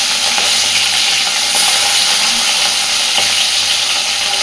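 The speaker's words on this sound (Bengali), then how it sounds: "সুন্দর করে দুটো মাছটাকে ভেজে নেব, তবে খুব বেশি কড়া করে মাছ ভাজবো না।" Two large bhola fish fry in hot oil for a fish curry, giving a loud, steady, dense sizzle with faint crackles and occasional stirring clicks, close by and continuous with no voices.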